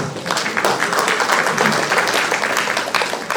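A crowd claps for the panelists after a panel discussion, a continuous dense spatter of hands held at an even, fairly loud level from start to finish.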